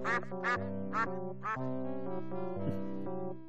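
Stock cartoon duck quacking effect from the Simon the Sorcerer adventure game: about five nasal quacks in a quick series, then a longer drawn-out honk, clear and isolated with no talk.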